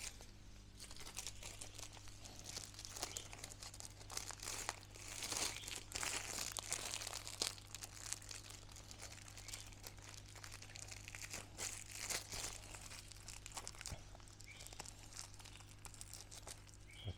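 Plastic bags crinkle and rustle close by as fish are packed for postal shipping in hot weather, a continuous irregular crackle over a low steady hum.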